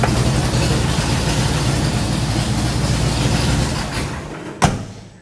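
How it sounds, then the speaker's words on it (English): A lifted truck's engine idles loudly with a choppy, lumpy exhaust note for several seconds, then cuts off, leaving a brief clunk and near silence. "So it has a really good tone to it, really choppy idle."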